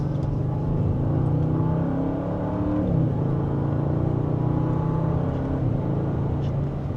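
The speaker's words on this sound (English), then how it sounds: "And just a mild acceleration." A 2025 Audi RS6 Avant accelerates mildly in second gear in an RS drive setting. Its engine drone hums steadily from inside the cabin and rises gradually in pitch, with no talk over it.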